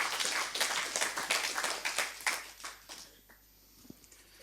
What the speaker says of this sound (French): Vous pouvez bien sûr applaudir le président.